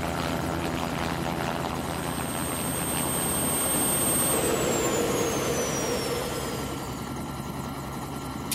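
Helicopter in the video game Cabela's Dangerous Hunts 2, a steady, loud rotor-and-turbine drone that continues without a break, with a whining tone that slowly shifts.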